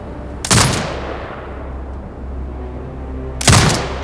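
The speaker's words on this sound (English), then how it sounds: "Exit binocular mode and command the turret to fire." Turret firing at marked hostiles in the game Sniper Ghost Warrior Contracts 2: two loud, heavy booming shots about three seconds apart, each trailing into a long rumbling decay, with no talk.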